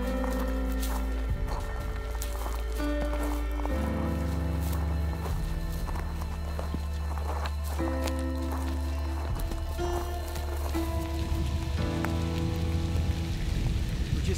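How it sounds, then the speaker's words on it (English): Steady rain patters on a surface in mule deer high country, with irregular drops and taps throughout, accompanied by a constant low hum. "started to rain"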